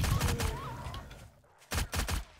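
Hip-fired gunshots in the 7 Days To Die Alpha 16 video game: a rapid burst of loud, close shots, a short lull, then two more sharp blasts near the end.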